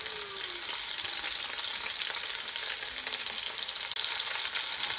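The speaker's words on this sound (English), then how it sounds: "So here we are browning the other half, sauteing and browning the other half of the pork shoulder" Pork shoulder browning in an Instant Pot on the sauté setting gives a steady, close, bright sizzle of meat searing in hot fat, with no voices.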